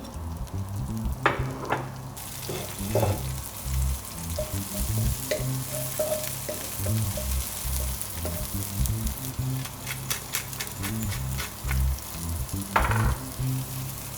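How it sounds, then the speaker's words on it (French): Garlic, lemongrass stalks and small onions fry in oil with a steady close sizzle, stirred now and then with brief scraping clatters, under a constant low background hum. "Je vais mettre un peu d'ail, quelques bâtons de citronnelle pour faire infuser dans l'huile"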